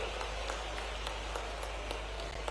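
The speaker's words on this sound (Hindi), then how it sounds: "तालियों से आप भी सम्मिलित होइए।" An audience at a public ceremony honouring a chief minister in Anuppur breaks into sustained, dense applause, steady and fairly even throughout.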